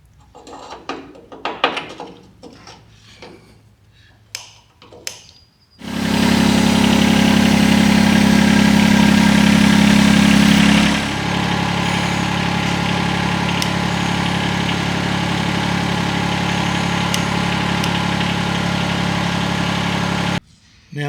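A mini excavator's diesel engine roars loud and steady close by while the house rotates during greasing, the revs dropping slightly partway through and then holding a constant drone to the end.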